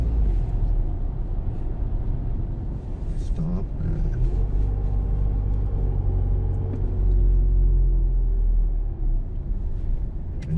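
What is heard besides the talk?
Isuzu MU-X 3.0 engine accelerating out of a curve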